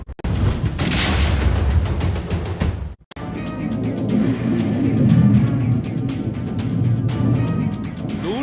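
A loud, sustained rumbling blast from an explosion in the city of Irpin, Ukraine, during wartime roars, briefly cuts out, then continues as a heavy, booming roar with crackling debris, heard from a distance.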